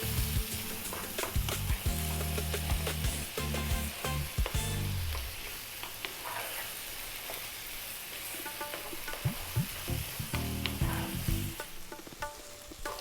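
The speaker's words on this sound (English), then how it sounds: "you can see that our tomatoes and onions are cooking down nicely" Tomatoes and onions cooking down in a pan for a lamb bhuna curry, a steady close sizzle with scraping stirs and clanks of the utensil, louder at first and then settling into a softer crackle.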